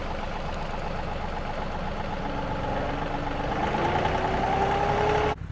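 A farm tractor drives over to a property with a steady engine drone that climbs gradually in pitch. It stops abruptly just before the end.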